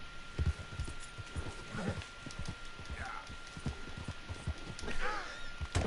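Horse hooves clip-clop in a steady walking rhythm in Red Dead Redemption 2, fairly quiet and close, with someone talking over them.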